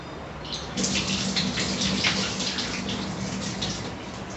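Black urad dal and rice being washed in water in a kitchen, a steady close splashing and running-water wash with swishing bursts throughout, no talking.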